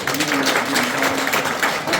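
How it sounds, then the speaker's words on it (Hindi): Audience clapping for the teaching community at a Teachers Day school event, a dense, brief round of applause with a faint voice underneath. "हमारे पूरे टीचर कम्युनिटी के लिए तालियां जोरदार हो ही जाती हैं।"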